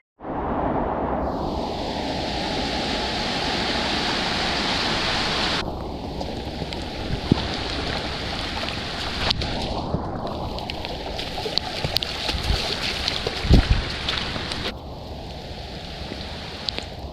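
Flood water after heavy rain rushes and roars in a continuous, loud broadband wash around a cut-off rural property, steady throughout with occasional splashes and no talking.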